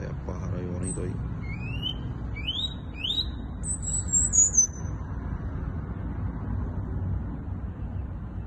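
A toletero songbird sings outdoors a little way from the camera, a series of thin, high, rising whistled notes in quick succession, clear over a steady rumble of traffic and wind.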